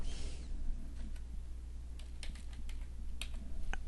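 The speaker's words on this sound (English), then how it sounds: "I find holding down the shift key and the arrow keys works just fine with me." Keys tapped on a computer keyboard, including shift and arrow keys, give sparse, irregular clicks over a steady low room hum, fairly faint and close.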